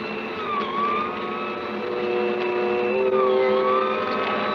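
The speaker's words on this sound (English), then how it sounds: "We both heard the siren then." A wailing siren from a radio drama sound effect, its rising and falling tones sounding over a low vehicle engine rumble and swelling slowly louder, with no talk.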